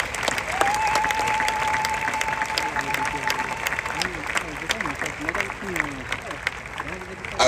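Loud, continuous applause from a large crowd at a funeral service, with cheering voices and a sustained tone running through the first half, steady clapping throughout.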